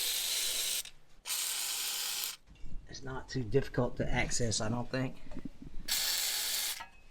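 A ratchet loosens the four bolts on an old tractor's water pump in bursts of fast clicking, first alone, then again after someone speaks briefly nearby.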